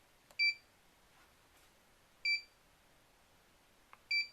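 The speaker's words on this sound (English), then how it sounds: "short red beeps are zeros and then the long green beeps are the numbers" A lockbox timer emits three short, bright electronic beeps spaced about two seconds apart, each one a clean tone in an otherwise quiet room.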